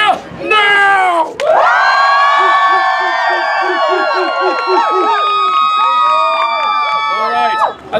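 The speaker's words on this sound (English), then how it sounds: "Hoot, holler, clap, cheer, stomp your feet, whistle, and throw small loved ones into the air." A live theatre audience at a Shakespeare performance cheers, hoots and whoops loudly, with many high voices and children shouting together in a sustained, near roar and brief dips at the start and end.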